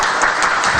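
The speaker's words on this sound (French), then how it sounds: "Nous allons applaudir les panélistes." A panel audience at a World Bank discussion on Côte d'Ivoire breaks into brief, loud applause for the panelists, a dense burst of clapping hands lasting under a second.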